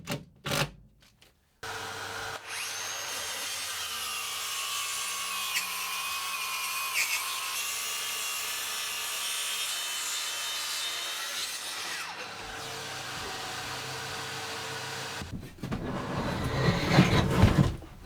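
Saw cutting through an oversized wooden cabinet top, a steady continuous rasping cut lasting around ten seconds, close and fairly loud, with clattering handling noise at the end.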